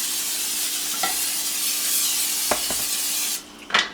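An Evo oil sprayer mists oil into a hot pan, giving a steady loud hiss and sizzle for about three seconds that cuts off abruptly, followed by a few short clanks and taps.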